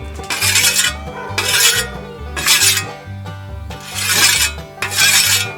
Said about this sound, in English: I always use this very fine sharpening stone to get rid of the burrs